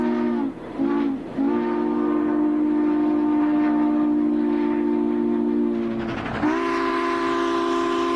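Southern Pacific 4449 steam locomotive sounding its chime whistle in several long sustained blasts, with short breaks early on and a final shifted blast, over the rumble of the running train.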